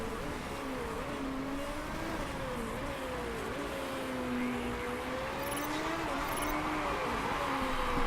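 Race cars in the Motorsport Manager racing game, steady engine whine rising and falling in pitch as they accelerate and shift, a continuous moderate drone with a second car tone layered beneath.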